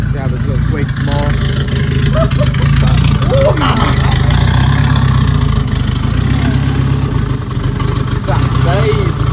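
A car engine idles loudly and steadily in cold weather, a constant close low rumble with an unsettled idle, and faint chirps sound over it.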